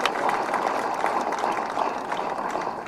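An audience at a political meeting applauds the journalists, with dense, continuous clapping that fills the scene throughout at steady volume.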